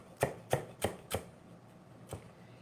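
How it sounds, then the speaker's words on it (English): Knife coarsely chopping fresh garden parsley on a board: four quick, crisp chops in a row, a short pause, then a fifth, all close and clear with no talking. "I'm going to add in a little bit of parsley. The last bit from my garden. And I'm just going to give it a coarse chop."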